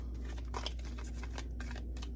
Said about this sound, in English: These are a little bit odd to shuffle. Heart-shaped.